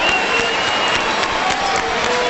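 A Little League World Series baseball crowd cheering and rumbling in the stands, a loud, steady wash of many voices and scattered clapping filling the whole moment without a break.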